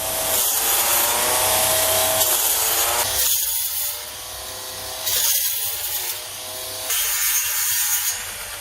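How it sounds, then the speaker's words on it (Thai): A 60-volt cordless grass trimmer whines loudly and steadily up close, its pitch dipping in bursts as the line bites into thick grass in a vegetable plot. "เดี๋ยวเรามาทดลองตัดหญ้าด้วยเครื่องตัดหญ้าไร้สาย 60 โวลต์กันนะครับ"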